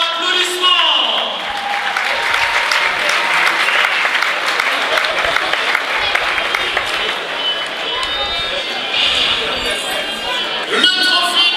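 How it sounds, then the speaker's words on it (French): Loud, sustained applause from a crowd celebrating the winning team after a match, dense clapping with a few cheers rising at the end. "Applaudissements."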